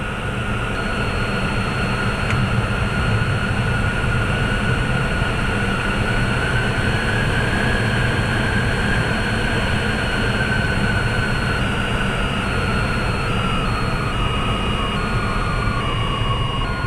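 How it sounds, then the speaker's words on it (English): An aircraft landing without its landing gear makes a loud, continuous roar that stays steady throughout, with a sustained whining tone slowly rising and falling over a dense rumbling scrape. "what happens when a plane lands without its landing gear"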